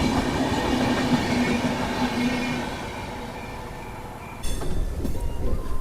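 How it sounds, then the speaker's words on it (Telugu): An AC special train from Santragachi to Bangalore passing close by with a loud continuous rumble and rolling wheel noise, then rhythmic clickety-clack as the coaches go over the rail joints. "ఈ ట్రైన్ కానీ చూసుకుంటే సాంత్రగచ్చి నుంచి బెంగళూరు వెళ్ళే AC స్పెషల్ ట్రైన్ ఇది"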